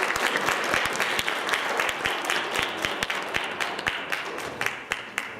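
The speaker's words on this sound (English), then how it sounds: "Please give a round of applause for our amazing judges." An audience applauds contest judges, a broad steady wash of clapping with a few sharp, close individual claps standing out and the sound gradually tapering toward the end.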